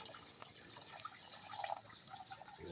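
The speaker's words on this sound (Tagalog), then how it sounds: "Lagyan na po natin ng tubig mga idol." Water poured into a cooking pot of mushroom and onion soup, a faint steady trickling and splashing heard close with no talk.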